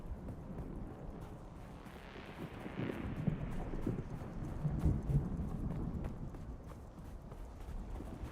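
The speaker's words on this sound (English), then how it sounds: "And the storm is coming, so let's just get sheltered." A storm rolls across the desert in the Dune: Awakening video game, a steady broad roaring wash of wind and rumble that swells midway and stays loud throughout, with faint thuds beneath.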